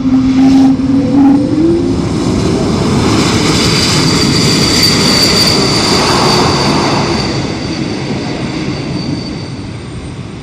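An Embraer E195-E2 jet approaches and arrives at London City airport, its engines roaring loud and steady for about ten seconds before easing slightly toward the end, with a distant high whine on top.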